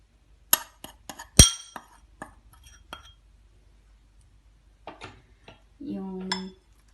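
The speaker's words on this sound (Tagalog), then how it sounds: "paghalo-haloin na natin ang mga ingredients. Yan, iuna natin yung tinadtad na hipon." Chopped shrimp, salt, pepper and other dumpling ingredients being mixed in a bowl, with a few sharp clinks and scrapes of a utensil against the dish, then quieter scattered taps and a short murmur at the end.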